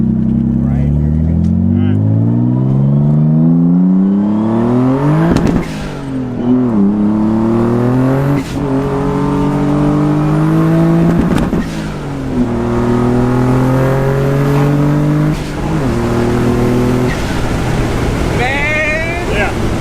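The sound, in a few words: 1991 Nissan 300ZX twin turbo accelerating hard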